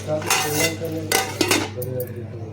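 Metal clinks and clatters of cookware as a lid settles onto a cooking pot on a gas stove, several sharp clanks over a steady low hum, close and fairly loud.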